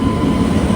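A train, number 16160 hauled by a WP7 locomotive, pulling into platform 2 at a station, a loud steady rumble under a sharp high-pitched squeal, close by.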